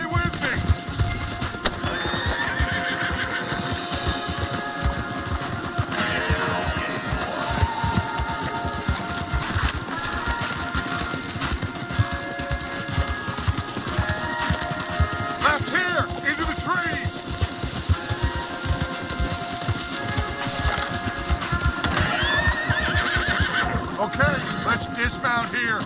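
Horses gallop and neigh in the open-world western game Red Dead Redemption 2, a continuous drum of hoofbeats with repeated whinnies under a dense music and effects bed, with voices speaking throughout.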